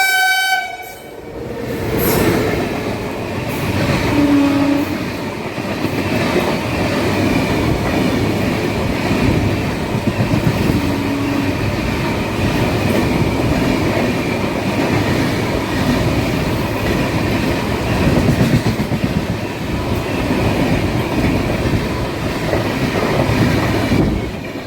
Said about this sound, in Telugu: ఇప్పుడు వెళ్ళిన బండి హటియా నుంచి SMVT బెంగళూరు వెళ్ళే బండి, వీక్లీ ఎక్స్ప్రెస్.